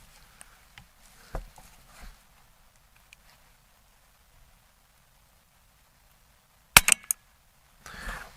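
A single sharp report from a Western Airguns Rattler .30 air rifle firing a JSB pellet, loud and alone against quiet outdoor background, followed by a brief burst of noise.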